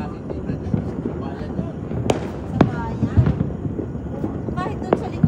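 New Year's Eve fireworks go off at a distance, with scattered sharp bangs and crackles over a steady outdoor rumble and light wind, while people chatter nearby.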